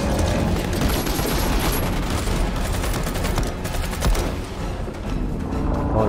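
Dense, continuous assault rifle fire in a shooter video game, loud and nearly unbroken for the whole stretch, with overlapping bursts and blasts filling the mix.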